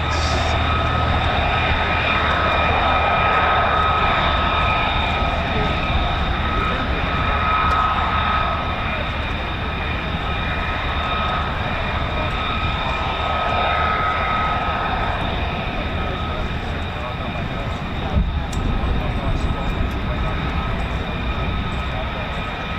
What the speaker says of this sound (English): Just waiting for the F-35s to taxi out. We can just about hear them there.